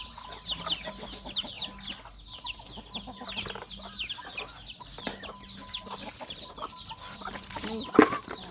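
Chickens cluck repeatedly and busily, a flock close by, with a louder squawk near the end.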